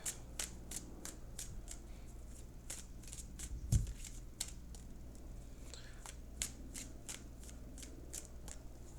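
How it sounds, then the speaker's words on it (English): Crisp, repeated riffling and snapping of tarot cards being shuffled, steady rhythmic bursts close by, with a faint low hum underneath and no talking. "I'm now going to shuffle for your outcome card."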